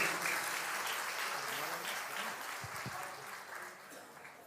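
A crowd applauding a devotee at a religious gathering, a dense wash of clapping that holds steady and slowly fades, with faint low thumps beneath.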